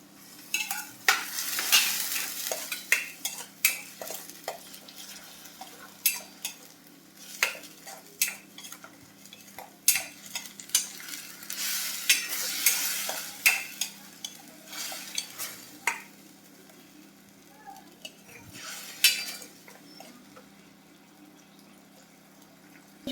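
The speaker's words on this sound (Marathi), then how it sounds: "त्यामध्ये घालायचं आहे टोमॅटोची पेस्ट" Tomato paste being stirred into a frying pan of reddish-pink browned onion for a cashew curry, with steady sizzling and frequent scraping clinks of the spoon against the pan, close and continuous.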